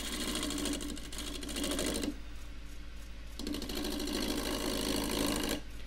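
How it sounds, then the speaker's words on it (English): A shear scraping tool cuts a square wooden dish spinning on a lathe, giving a steady rasping whir that drops away briefly mid-clip before resuming, fairly quiet and without speech. "I'm just going to squeeze the tool back and forth along the rest."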